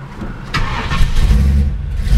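A cold 1956 Ford engine runs loud and close, its steady mid-pitched idle thickening with a low lumpy thrum as the car is put in gear, with no talking.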